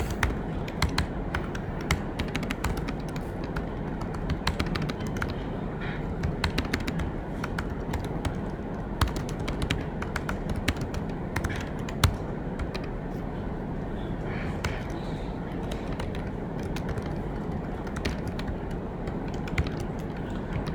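Rapid, uneven computer keyboard typing clatters on and off for a long stretch, close by and fairly quiet, with no talking.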